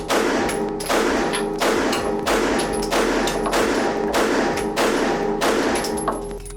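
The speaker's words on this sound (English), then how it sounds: "fire 10 at 3 yards whenever you're ready" Pistol fire on a shooting range: a rapid string of about ten loud, close shots in a steady rhythm, each a sharp crack followed by ringing echo, with no talking.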